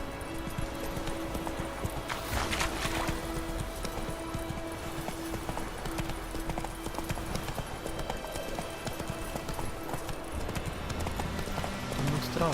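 Horse hooves clip-clop at a steady gallop in The Witcher 3: Wild Hunt, a continuous rhythmic pounding close by with a brief whinny-like burst early on and faint game ambience beneath.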